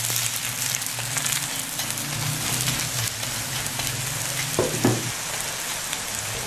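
A lachha paratha cooking in ghee on a hot griddle, a steady close sizzle and crackle throughout with a brief louder scrape or flip near the end.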